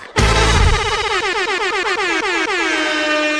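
A loud, sustained vehicle horn blares continuously for several seconds near a rally in Forbes, with rich harmonic tones and slight pulsing, close and dominant.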